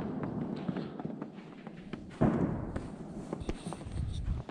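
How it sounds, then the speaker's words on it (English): Distant fireworks near a peaceful pagoda site in Shandong, China ahead of Spring Festival, scattered faint pops and crackles over outdoor ambience, with one louder burst partway through and no talking. "Someone's got the old fireworks going."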